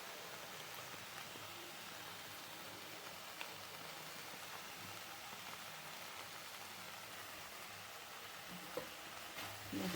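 Hakka noodles tossed with noodle masala in a hot pan, giving a steady sizzle and frying hiss throughout with faint stirring scrapes, close and continuous with no talk.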